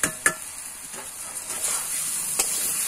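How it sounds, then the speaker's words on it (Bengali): Boiled jackfruit and potato pieces go into spices frying in oil, giving a steady close sizzle with a couple of sharp clatters near the start. "এরপরে আমি এখানে সেদ্ধ করে রাখা এঁচড় আর আলু এগুলো দিয়ে দিচ্ছি"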